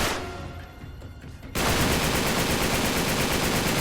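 Rapid video game gunfire in Uncharted 3, a dense, loud stream of automatic shots bursting in after a quieter rumbling stretch and continuing without pause.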